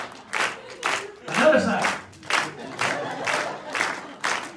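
A stand-up comedy audience claps in a steady rhythmic beat with scattered cheers as someone talks loudly over the clapping.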